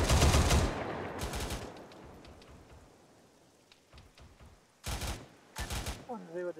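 ArmA 3 military game battle with bursts of rifle and machine-gun fire and a grenade launcher, loud volleys at the start, then scattered distant shots and two sharp close bursts near the end, with radio chatter.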